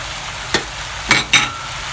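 Sauce added to a sizzling pan of Chinese fried noodles gives a steady, close frying hiss, broken by a few brief splashing bursts of pouring and stirring.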